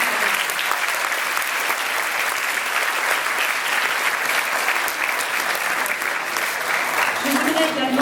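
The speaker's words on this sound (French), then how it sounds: "je voudrais que vous les applaudissiez" Loud, continuous applause from a large crowd at a concert, dense and unbroken for several seconds, with a voice emerging faintly near the end.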